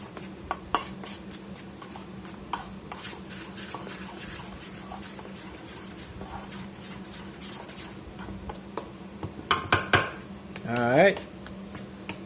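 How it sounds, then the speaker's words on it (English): A utensil scrapes and taps against a bowl while cornmeal, salt and other dry cornbread ingredients are stirred together, with rapid clinks and a few louder knocks near the end. "Get these dry ingredients mixed together real good."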